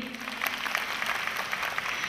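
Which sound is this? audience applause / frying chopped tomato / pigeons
audience applause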